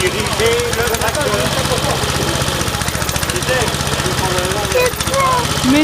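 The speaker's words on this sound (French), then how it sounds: "Il sait diriger le tracteur." A tractor engine idles steadily with a low, throbbing rumble and faint rattling throughout, loud and close.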